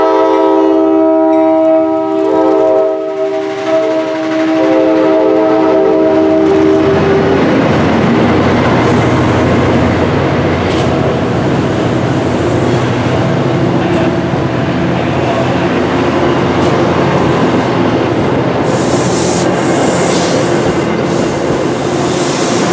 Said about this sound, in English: Keela 713 is departing Norwood Depot Station, a train station in the middle of the Franklin Line.